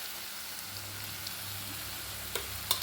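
Spices with asafoetida sauté in hot oil, a soft even hiss held throughout, topped by a couple of sharp spatters or taps near the end.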